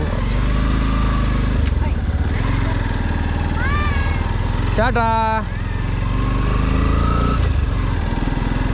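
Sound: Yamaha FZ-X adventure motorcycle engine

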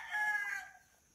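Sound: rooster crowing

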